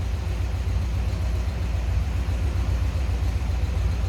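A 1960 Ford F250 pickup with a 292 engine idles smoothly, and its exhaust gives a steady, deep, even rumble close by.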